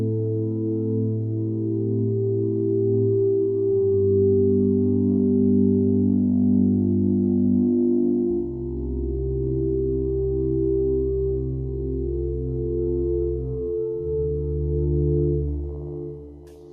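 A Korg Wavestate synth plays a sine wave type patch as smooth, pure sustained tones that step through a slow sequence of low chords, loud and even with no other sound.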